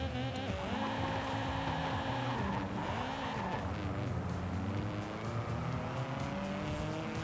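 A 1993 Nissan S14 240SX drift build in Forza Horizon 5 revs hard and steadily, its engine pitch dropping and climbing again through gear changes, with tire squeal mixed into the loud, continuous racing sound.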